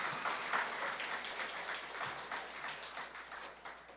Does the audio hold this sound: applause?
yes